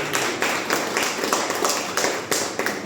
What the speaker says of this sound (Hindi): वेरी नाइस, तालियां बजा दीजिए।